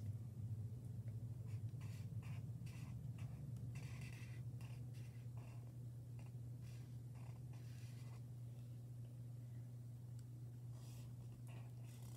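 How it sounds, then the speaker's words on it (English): Pen or marker scratching a sketch onto paper, soft irregular strokes in the first few seconds and then fainter, over a steady low hum. "So start drawing out the sketch that you want."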